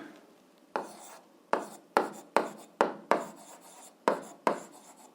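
Chalk or marker strokes on a classroom board during an algebra lesson, about nine short scraping bursts in an uneven rhythm, close and fairly quiet with silent gaps between.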